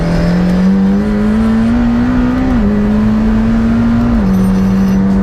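Twin-turbo V8 engine of a McLaren Senna (M840TR) revving steadily, a loud, close, continuous drone whose pitch rises gradually then drops slightly twice, with no talk over it.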